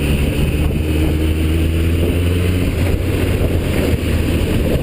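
Motorcycle engine droning steadily under heavy wind rush while the rider counter-steers around a roundabout, loud and continuous with no speech.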